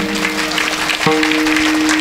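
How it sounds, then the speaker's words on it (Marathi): An audience at a devotional kirtan claps in a dense, sustained burst of applause, a steady tonal hum running beneath the clapping throughout. "त्यांच्यासाठी एकदा जोरदार टाळी वाजवा"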